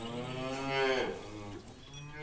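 Buffaloes moo loudly and close by, with a long, drawn-out low bellow that swells in the middle and then tapers off, with no talk over it.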